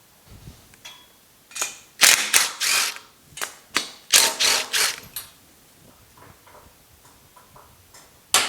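Mechanical clicks and ratcheting bursts come from unbolting a Pontiac GTO restomod body from its chassis: sharp, close, irregular clusters of tool clatter with short pauses between them, fading to quieter ticks near the end.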